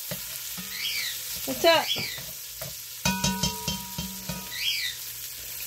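Beef browns in a hot pan for a stew, a loud steady sizzle with stirring knocks and pan clatter, while a bird whistles in the background and a voice speaks briefly.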